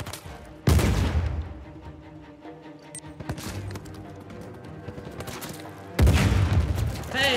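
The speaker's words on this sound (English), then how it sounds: "I'm getting shot to death from a lot of places, it turns out." Enemy gunfire in Uncharted 4 comes in loud bursts, with a sharp volley near the start, scattered shots through the middle and another heavy burst at the end, as if incoming from several directions.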